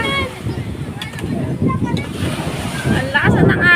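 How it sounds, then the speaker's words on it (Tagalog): Strong surf breaking along the shore at Calatagan, Batangas, a steady broadband wash of waves with wind buffeting the microphone, under excited voices calling out nearby. "Ang lakas na ng alon."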